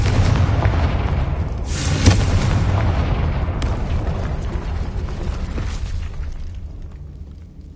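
Confringo spell explosion in Hogwarts Legacy: a sharp booming blast around two seconds in, followed by rumbling debris and a smaller crack, then the noise tails off.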